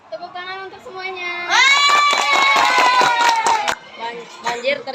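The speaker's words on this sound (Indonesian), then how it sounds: "Tepuk tangan untuk semuanya." Children in a classroom burst into applause, scattered claps mixed with loud excited shouting voices for a few seconds before settling back.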